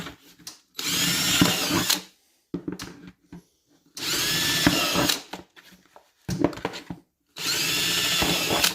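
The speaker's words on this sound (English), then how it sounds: "For this particular bucket, it's easier to go on the inside and drill a hole" A power drill whirs in three long bursts separated by pauses as it drills holes in a plastic bucket, with clattering and handling noise between runs, close and loud.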